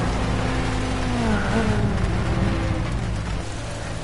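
Steady rain in the racing game Project Cars, a dense hiss spread across the whole clip under a loud droning race car engine whose pitch sweeps as the car moves.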